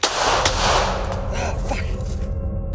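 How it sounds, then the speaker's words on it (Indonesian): A warning gunshot goes off in a forest at night, one loud, close blast followed by a rumbling echo that trails away over a few seconds. "sempat menembakkan tembakan peringatan"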